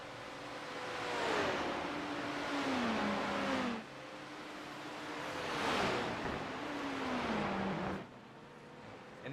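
A 212 Racing Porsche GT3 race car roars past in a racing game at Watkins Glen, two loud engine passes with rising and falling pitch as gears shift, close and steady with no talk over it.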